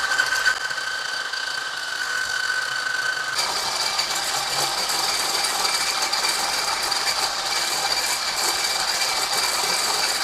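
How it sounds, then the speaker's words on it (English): An electric hand mixer whisks Swiss meringue egg whites for a chocolate mousse, a steady close whirring drone that shifts up in pitch and grows louder partway through as the speed is increased, with no talk. "Whisking them will take some time, may take several minutes, and you can gradually increase the speed over the course of whisking it."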